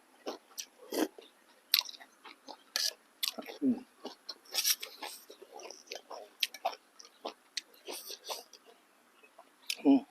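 Crispy Thai pork belly being bitten and chewed close up, a steady run of sharp crunches and crackles with brief pauses between bites, no talking.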